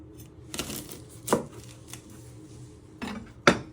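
A kitchen knife trims the ends of a vegetable on a cutting board, giving a few sharp, close chops and knocks against the board spaced over several seconds, with quiet handling noise in between.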